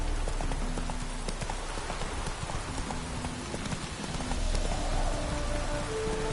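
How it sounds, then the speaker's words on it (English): Galloping hooves of the horse Roach clip-clop steadily through pouring rain in The Witcher 3: Wild Hunt, a continuous rhythmic beat over a dense hiss of rainfall throughout. "Whoa there, Roach"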